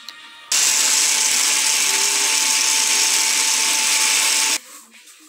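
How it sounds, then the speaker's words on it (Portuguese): A kitchen blender runs at full speed for about four seconds, blending banana peel and other ingredients into liquid plant fertilizer; a loud, steady whirring roar starts and stops abruptly, with quiet room noise before and after. "Vamos colocar para bater tudo junto, esses três."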